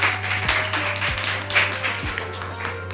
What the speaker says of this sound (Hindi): तालियां हो जाए मरियम के लिए।